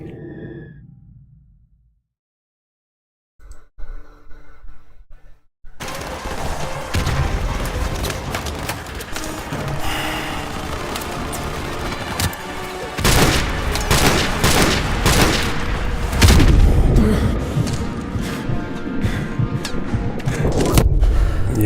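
Explosions and gunfire from a Call of Duty Modern Warfare Remastered battle, with a grenade blast somewhere among them, erupt after a brief quiet and continue as dense, loud bursts and booms.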